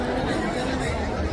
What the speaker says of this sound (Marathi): महाकाल दर्शनासाठी खूप गर्दी आहे इकडे.